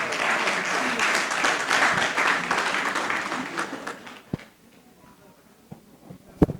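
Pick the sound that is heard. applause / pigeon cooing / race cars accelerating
applause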